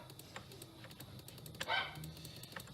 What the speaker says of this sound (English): Sorry if you hear a dog barking in the background.